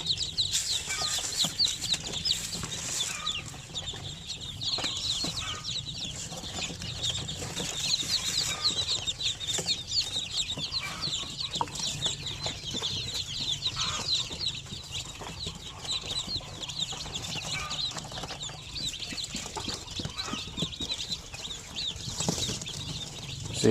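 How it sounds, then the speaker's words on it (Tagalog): Newly hatched chicks eating feed give a dense, continuous chorus of high-pitched cheeps and soft clucks, with light pecking and rustling underneath, steady and close throughout. "kusa lang yan silang kumakain dyan, yung mga sisiw na ito"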